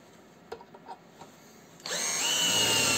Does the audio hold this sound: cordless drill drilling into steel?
yes